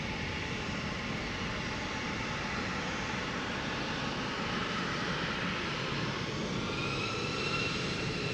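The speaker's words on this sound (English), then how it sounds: "KLM flight 915 to Aberdeen, Embraer 175." A KLM Embraer 175 jet taxis at Amsterdam Schiphol Airport, its engines giving off a steady, broad roar at moderate distance that holds without break and swells slightly toward the end.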